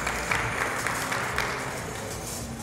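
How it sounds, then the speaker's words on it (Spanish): Crowd applause at an International Dance Day cultural event, a dense steady clapping from a gathered audience with a faint low rumble beneath, continuing evenly without speech. "quiero pedir un voto de aplauso para el Consejo Departamental de Culturas"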